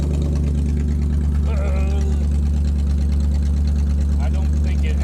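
The engine of an abandoned 1965 Ford Mustang, pulled from a junkyard after 30 years, runs loud and close with a steady throbbing drone, held up as it is revved, while a voice briefly speaks over it.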